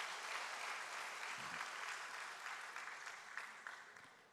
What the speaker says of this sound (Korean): 우리 한번 축하하면서 박수로 격려하겠습니다